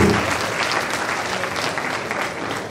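Audience applause at an MOU signing ceremony with Nestle Nigeria, steady dense clapping from a crowd sustained throughout without a break.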